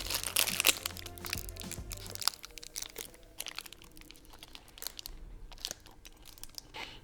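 Close, crunchy chewing of a cereal bar with berries from a Swedish military ration, with crisp bites and crackling wrapper-like crinkles, loudest at first and then softer, with no talking.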